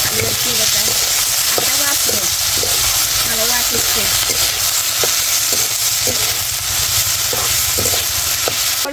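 Cut potato pieces frying in oil in a kadai, a loud continuous sizzle and hiss with repeated metallic stirring clinks and scrapes throughout, with a voice murmuring faintly in the background.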